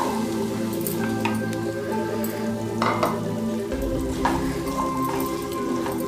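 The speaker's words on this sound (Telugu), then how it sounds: "ఇవి కాసేపు నూనెలో వేపుదాం" Chickpeas fry in hot oil with a steady, close sizzle, broken by occasional clinks and stirring scrapes and a shift in tone partway through as they settle in the pan.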